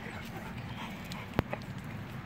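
American bully puppies play nearby, with soft panting and a sharp knock or thump amid steady scuffling room noise.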